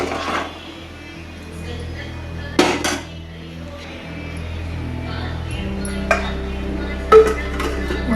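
A metal spoon scrapes and clinks against a cooking pot while stirring salt into okra sambar, with a few sharp knocks over a low steady hum.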